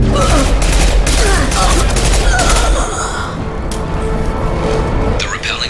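Rapid, loud impact-shot gunfire in the Mass Effect 2 game, with dense overlapping bursts for about three seconds, then quieter scattered shots and combat noise.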